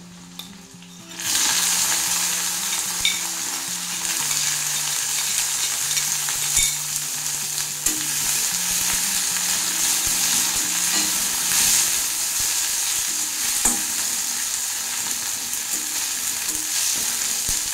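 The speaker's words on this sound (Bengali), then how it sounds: "এবারে দিয়ে দেবো পেঁয়াজ কুচা" Steady sizzling of chopped onion frying in a pan with garlic, with occasional stirring scrapes and clinks continuing throughout, no voices.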